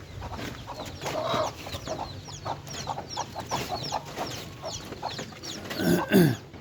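Hens kept for hatching chicks cluck in short, soft bursts close by, with a louder, rising squawk near the end.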